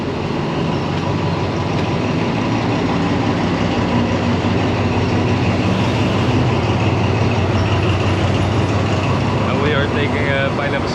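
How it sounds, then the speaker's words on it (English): A passing train rumbles in a loud, continuous roar for the full stretch, with dense broadband noise and a faint squeal near the end; a voice is present underneath. "There's a train passing by."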